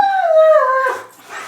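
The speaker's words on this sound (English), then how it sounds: "That's my dog." A dog gives a loud, close, sustained howl that bends downward in pitch, then trails off into a softer whimper.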